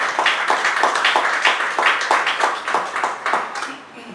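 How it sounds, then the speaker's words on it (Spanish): An audience at a talk on Amazonian oral literature gives a short burst of steady, even clapping that fades toward the end, with no voice over it. "Un aplauso nuevamente para Ívico."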